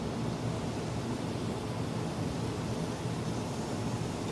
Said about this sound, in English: Okay, I can hear the water running